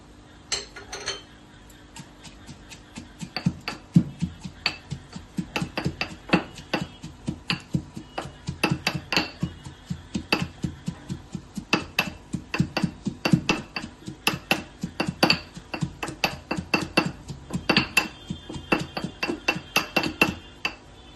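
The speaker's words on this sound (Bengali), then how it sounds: "সেটা হামানদিস্তা দিয়ে এভাবে একটু থেতো করে নেবো।" Fried chilli, garlic and ginger pounded with a metal mortar and pestle, a long run of sharp rhythmic clanking strikes, close and steady, with no talk.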